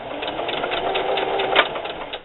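A sewing machine stitches the lining of a holiday gift bag, a steady whirring run with a brief louder burst near the end, close and alone.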